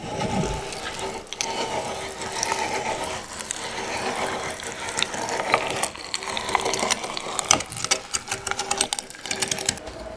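A meat grinder works through deer meat in an outdoor survival camp, a continuous close churning and squelching mechanical rattle with irregular clicks throughout.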